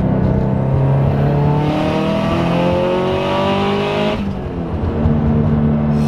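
A 500 hp Subaru STI pulls hard in third gear, its engine note climbing steadily in loud rising harmonics for about four seconds before easing off, close and continuous with no talk over it.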